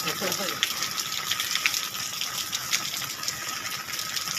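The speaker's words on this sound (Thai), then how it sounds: "น้ำหลากแล้วน้ำหลากแล้ว" Floodwater rushes and gushes steadily after heavy rain overflowing fish ponds near a temple, a loud continuous broadband wash with someone speaking excitedly over it.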